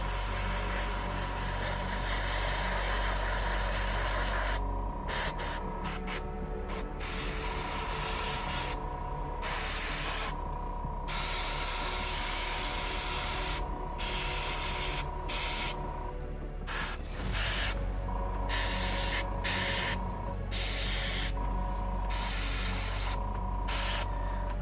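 An airbrush sprays Huge Miniatures earthy red paint in a constant close hiss, broken by many short pauses as the trigger is released and pressed again.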